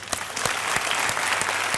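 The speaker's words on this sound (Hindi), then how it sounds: "अरे वाह, तालियां।" Studio audience applauding on a Hindi entertainment show, a steady burst of many hands clapping close and loud, with no voices over it.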